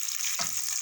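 Sliced garlic sautés in a pan for Iraqi okra stew, a steady close sizzle throughout with a brief stirring scrape partway through; no talking.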